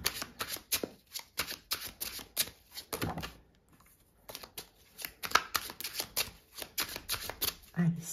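Tarot cards are shuffled in quick, crisp riffling bursts, close and loud, with a brief pause midway, while someone speaks softly in French under the card noise.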